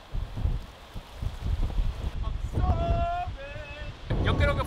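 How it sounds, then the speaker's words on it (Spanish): Strong wind buffeting the microphone on a beach at dawn, a continuous rough roar with gusts, while faint voices and a few tonal sounds come through in the background. "Pero hace un viento increíble."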